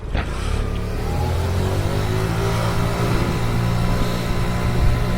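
A motorcycle engine revs and drones steadily as the bike turns around on a road, a loud, close, continuous hum that climbs slightly in pitch toward the end.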